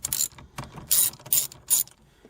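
Ratchet wrench with an 8 mm socket on a long extension clicking on the shifter mount bolts of a 2013-2020 Ford Focus ST, four bursts of close, loud ratcheting separated by short pauses.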